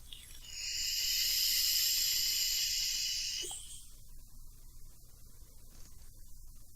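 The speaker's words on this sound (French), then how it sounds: "J'ai un beau nuage de vapeur." A Lava Tank e-cigarette vaped at about 40 watts on a 0.46-ohm coil gives a steady, close airy hiss of roughly three seconds before it fades into a quiet room.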